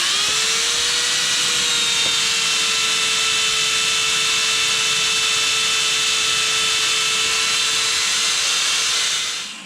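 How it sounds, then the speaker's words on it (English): A wire wheel on a power tool strips old paint off bare metal in one continuous, loud, close whine and grinding hiss that holds steady for nearly ten seconds before easing off. "get the old wire wheel here, tear some more of this paint back so we can work in here"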